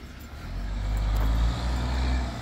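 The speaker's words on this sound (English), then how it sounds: "Here come one of the trucks." A truck passing on a street, a steady low engine rumble that swells and fades slightly over a couple of seconds, with no talk.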